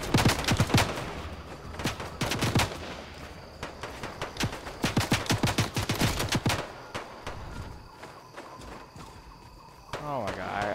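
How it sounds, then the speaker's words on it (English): Video game gunfire in rapid bursts of close, sharp shots, including automatic volleys, coming in several clusters with pauses between and then fading, with a player talking over it now and then. "So much fucking shooting over there."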